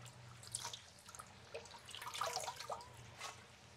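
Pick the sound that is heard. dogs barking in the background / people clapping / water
water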